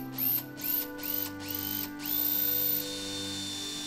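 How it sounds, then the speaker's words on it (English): A drill boring a small pilot hole into a piece of wood at a knife-making bench, heard as several short whirring bursts of the bit spinning up and stopping, then one longer steady run, close and fairly quiet with no talk. "let's start to drill the hole, hopefully at the right angle and keeping the drill bit centered in the middle of my piece of wood"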